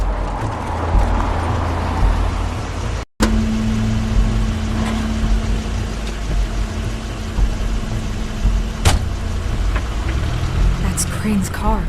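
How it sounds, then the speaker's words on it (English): A car arriving in The Wolf Among Us, its engine idling and rumbling steadily at mid distance, with a sharp cut near the start and a sustained tone over the motor. "Crane's car."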